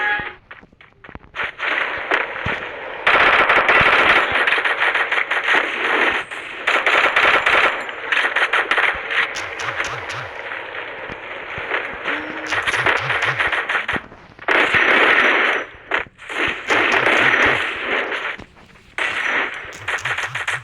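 Rapid bursts of machine gun fire from a video game, loud and dense, with sustained volleys broken by short pauses and sharp impact clicks scattered through the stretch.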